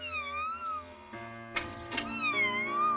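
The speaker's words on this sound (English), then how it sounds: "A cat! Wow! A kitten!" Drawn-out, wavering kitten meows in a cartoonish tone, close and clear, broken by a couple of sharp higher squeaks.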